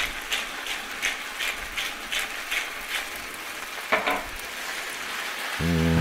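A pepper mill cranks out fresh pepper over a pan of baby spinach, a run of quick, regular ratcheting clicks close by. A soft sizzle runs under it, and a low rumble swells at the end.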